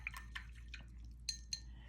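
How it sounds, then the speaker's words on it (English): A watercolour paintbrush is swished and rinsed in a water jar, giving faint, scattered drips and light glassy clinks over a low steady hum. "so let's just wash the brush off."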